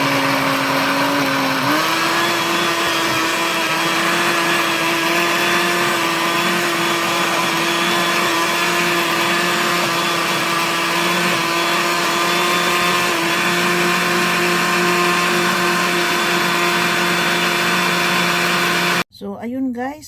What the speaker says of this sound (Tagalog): I-blender na natin guys.